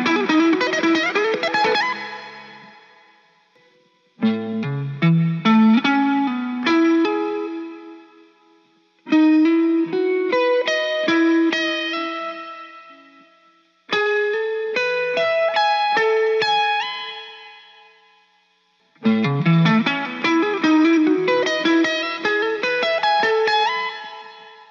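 Clean electric guitar plays a run of short arpeggio figures from a song, five bright phrases with brief gaps between them, each ringing out under effects and reverb, close and alone.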